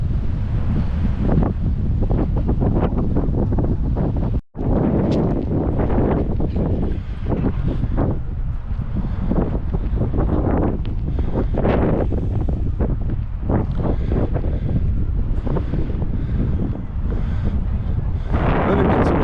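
Strong wind at the Burlington waterfront buffets the microphone in loud, gusty rumbling bursts that run almost without a break, with a brief sharp drop partway through.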